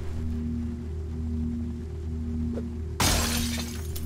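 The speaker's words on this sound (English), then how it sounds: "I could pretty much break any window I wanted to get into cars" In the video game Project Zomboid, a sudden loud shatter of car window glass cuts through a low steady engine-like drone, followed by tinkling debris.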